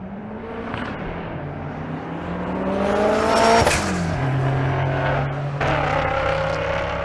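Turbo MG and S197 Mustang drag race cars launch side by side at Bandimere, engines revving and rising in pitch as they accelerate, with a loud peak and shifts before the roar carries on down the strip.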